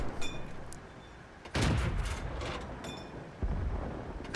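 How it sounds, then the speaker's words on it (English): Tank cannon fire in World of Tanks, two heavy booming shots about two seconds apart that land loud and close, each with a rumbling tail, over a quieter background of in-game noise. "I'm just going to keep on firing until he's dead"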